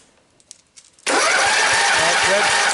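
A 2-cylinder lawn mower engine cranks with the key after a quiet pause, then bursts into a loud, steady roar that fills the rest of the clip.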